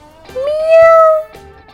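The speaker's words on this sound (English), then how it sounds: "Cat says, meow, meow." A cat gives a single drawn-out meow, close and loud, rising then holding before fading, with faint sounds at either side.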